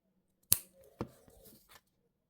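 Pliers cut a bracelet chain link: one sharp, close snip, then a second click, followed by faint handling rustles in a quiet room.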